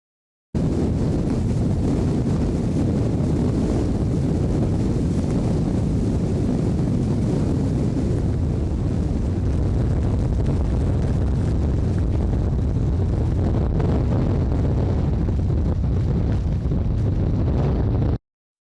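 Fierce 65 mph mountain wind buffets the microphone in a constant, loud low roar with gusting rumble, starting and stopping abruptly, no voices.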